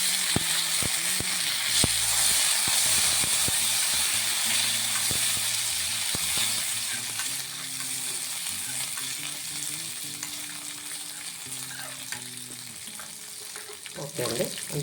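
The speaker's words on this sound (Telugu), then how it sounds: "రెండింటికి ఒకేసారి పోపెట్టేద్దామండి." Curry leaves tempering in hot oil for coconut and tomato chutneys give a loud, continuous sizzle with scattered crackles and pops, while a voice is faintly heard in the background.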